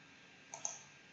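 Two quick mouse clicks in close succession, sharp and light against a quiet background.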